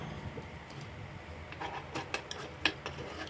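Sardines with egg and black pepper are stirred in a pan, with light scraping and clinks of a utensil against metal, growing into several sharper taps near the end, over a faint steady background hiss.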